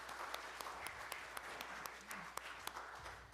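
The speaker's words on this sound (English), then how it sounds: "Round of applause for that." Faint applause from a church audience at a camp Sunday service, a brief patter of scattered clapping heard from a distance with a few sharper claps standing out.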